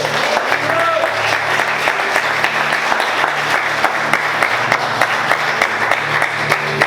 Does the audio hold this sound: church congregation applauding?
yes